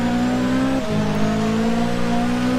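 A race car engine in Forza 6 Apex holds a steady, loud, high-pitched drone throughout, with a brief dip as the car brakes hard late into a corner, then climbs again.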